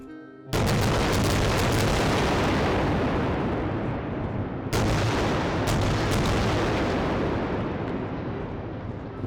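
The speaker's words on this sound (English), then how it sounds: "The Israeli military then pounded Gaza with airstrikes through the early hours of the morning." Airstrike explosions over Gaza: two massive booms, one near the start and another about four seconds later, each a sharp loud blast followed by a long rumbling decay, with no voices.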